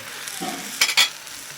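Dhapate, spiced Marathi flatbread, cooking in oil on a hot pan: a steady soft sizzle with a brief scrape or flip and a sharper crackling burst partway through, close and alone.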